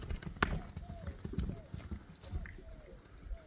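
A horse's hooves clip-clop in an uneven rhythm, up close, along with soft shuffling and a faint sound that may be a whinny, over low background noise.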